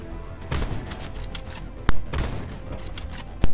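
Gunshots in Black Ops 4: a few loud, sharp shots stand out against a busy game background, with bursts of rapid fire in between.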